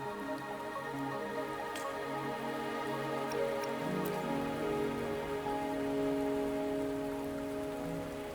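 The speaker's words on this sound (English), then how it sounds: "Are you trapped here by the rain?" Rain in the video game Wuthering Waves, a steady patter of drops on surfaces with occasional nearby drips, continuous over a soft tonal musical background.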